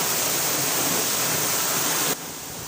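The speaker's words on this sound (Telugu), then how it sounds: "నేనున్న ప్రదేశంలో వాన ఎక్కువగా పడుతూ ఉంటుంది." Heavy rain falling in a rain-prone area, a dense, steady hiss like pouring water that drops abruptly to a quieter level near the end, with no voices.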